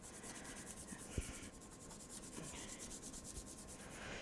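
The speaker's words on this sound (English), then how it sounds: "So I'm just gonna flip it over and really burnish it." Paper matting on a handmade coffin-shaped album is burnished with faint, steady rubbing and scraping strokes, close and quiet, with no voices.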